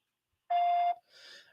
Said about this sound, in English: Please leave your name and number at the sound of the tone